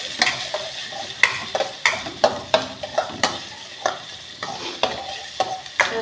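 Bottle gourd sautéed in a pan, a low sizzle under a regular series of sharp spoon scrapes and knocks, about two each second, close and clear with no voices.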